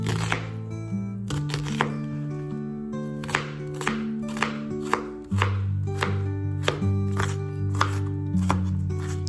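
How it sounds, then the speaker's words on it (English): A knife roughly chops an onion on a board with steady, fairly quick cuts, each a close, crisp tap, heard under sustained background music. "don't stress too much about getting the onion finely chopped"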